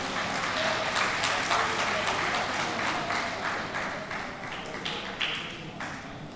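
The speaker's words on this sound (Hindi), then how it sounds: "तालियों के साथ साथियों उनका स्वागत करें।" An audience at a political gathering claps to welcome a guest, a dense sustained round of applause with sharp individual claps standing out, tapering slightly toward the end.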